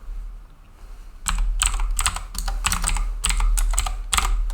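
Close, rapid keystrokes clatter on a computer keyboard while JavaScript code is typed, coming in quick irregular bursts after a moment of quiet.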